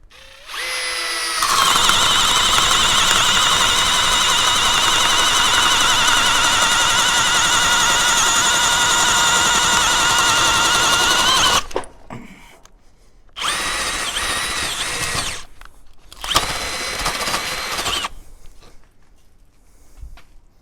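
A Metabo BS/SB 18 L BL Quick cordless drill boring with a 40 mm bit whines loudly and continuously for about ten seconds, then stops and restarts in two shorter bursts with pauses between.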